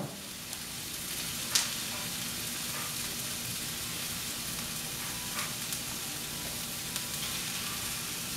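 Stir-fried vegetables sizzle in a pan with pizza arrabiata sauce for a vegan stir fry, a soft, steady hiss of frying with a few brief clinks of stirring.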